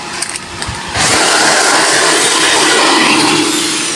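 A weak shallow water pump runs with a steady broadband whir, loud and close, starting about a second in after a few faint clicks and continuing without letup.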